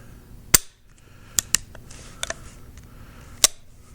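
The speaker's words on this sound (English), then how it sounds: "I'm going to dry fire." Dry firing a Remington single-shot falling block rifle with an octagonal barrel and a repaired stock: about six sharp, close metallic clicks come at irregular intervals against a quiet background.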